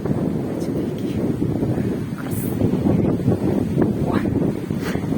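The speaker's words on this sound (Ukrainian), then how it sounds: "завершую, бо дуже вітер сильний і ви, мабуть, мене не чуєте" Strong gusts of wind buffet the microphone, producing a constant low rumbling roar with no one speaking.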